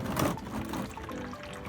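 Engine oil draining from a BMW during an oil change, a continuous liquid pour and trickle, close and steady, with no talking.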